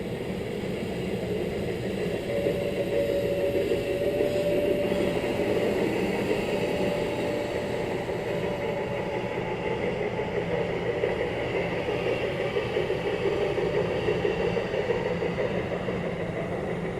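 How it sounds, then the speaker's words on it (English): Furka cogwheel steam train on an incline of up to 11%, approaching a rack and pinion section: a steady, loud, continuous rumble of rolling wagons and working engine, with a faint whistle-like tone partway through and no talk. "the train approaches the first rack and pinion section"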